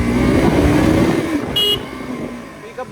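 A KTM RC 200 motorcycle riding on Delhi roads, its engine giving a steady close drone that eases off partway through, with a brief horn toot and faint traffic around it.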